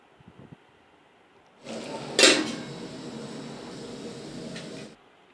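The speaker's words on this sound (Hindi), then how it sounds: "इसको हम बीच बीच में चलाते रहेंगे ताकि वो ना जले।" A spatula scrapes and stirs vegetables in a metal pan for a few seconds, with a sharp clink in the middle and a sizzling hiss underneath.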